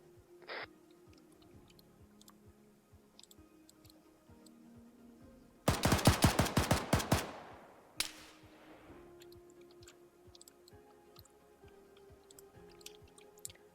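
Rapid automatic gunfire from the video game Arma 3 rattles in one loud burst of about a dozen shots, followed by a single sharp report and then faint scattered noise.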